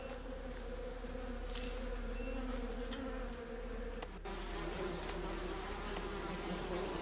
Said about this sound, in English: Oh, wait. Bees. Bees.